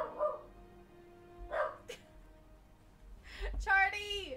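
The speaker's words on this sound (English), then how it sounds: "I don't know what he's barking at." A dog barks a few times at close range, single yips spaced out and ending in a louder, drawn-out bark, with people talking indoors around it.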